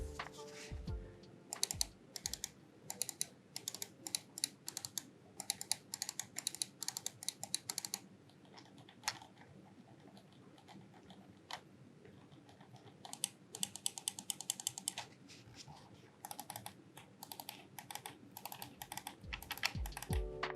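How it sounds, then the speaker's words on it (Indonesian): Rapid bursts of sharp clicks from the micro switches of an Asus ROG Gladius 3 gaming mouse, close up, arriving in uneven clusters with short pauses between them. "suara dari switch bawaannya atau ROG micro switch-nya"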